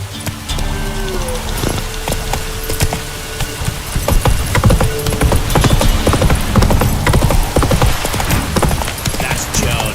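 Horse hooves clop in a quick, steady gallop rhythm in The Witcher 3 video game, loud and close, over faint rattling and ambient game sound.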